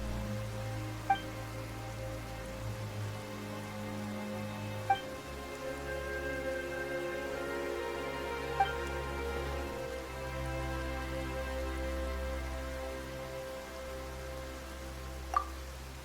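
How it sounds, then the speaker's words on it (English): Sudden rain in the video game Genshin Impact: a steady, even patter of drops falling on surfaces, with a few sharper drip ticks scattered through, under a low background hum and no talking. "Why is it raining all of a sudden?"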